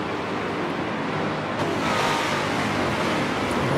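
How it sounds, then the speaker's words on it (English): Le Mans prototype race cars in Forza Motorsport 7 at Infineon Raceway whoosh past in a steady, loud wash of engine and tyre noise, with a sharp swell midway as cars close in. "Most of these are Le Mans prototype cars here"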